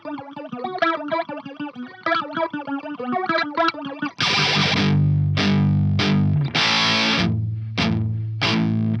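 Electric guitar plays the chorus: a fast, clean alternate-picked note riff, then loud distorted chords struck in bursts with brief gaps. The playing is close and prominent, with no talking.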